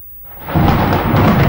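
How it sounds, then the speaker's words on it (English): A deep thunderclap in the horror game Nun Massacre swells from quiet into a loud, sustained rumble that rolls on heavily, close and alone with no talk. "That thunder almost got me though"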